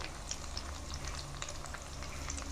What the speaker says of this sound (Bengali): এখন এগুলোকে ভালো করে কষিয়ে নেব।